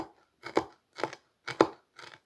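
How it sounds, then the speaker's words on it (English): A Kizer Little Rhino knife chops through moist pipe tobacco flake in five quick, close cutting strokes, each a crisp crunchy thud against the board, evenly spaced with short silences between and no talking. "you can also do this chopping motion like that"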